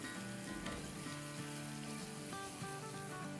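Tandoori burger patties frying in a pan, a soft, steady sizzle with crackling running the whole time, fairly quiet and close, with no talking.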